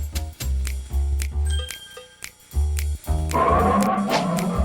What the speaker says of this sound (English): Hey, there's the bell.